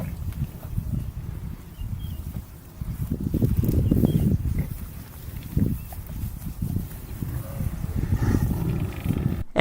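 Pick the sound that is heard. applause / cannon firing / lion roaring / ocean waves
lion roaring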